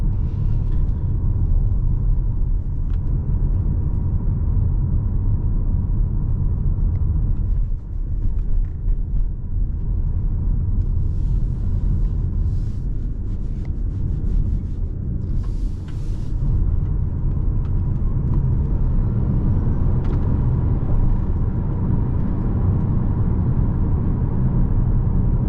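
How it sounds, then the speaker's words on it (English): A 2024 Toyota C-HR driving at night in electric-only mode, giving a steady low road and tyre rumble with little motor noise and faint brief rises. "The car is so quiet when you drive it on electric mode only"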